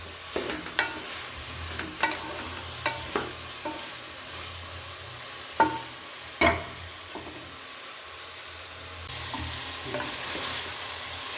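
A spoon stirs beans rice bath in a pan of frying tempering, giving irregular scrapes and clacks over a soft, steady sizzle, close and fairly quiet, with the frying growing stronger toward the end.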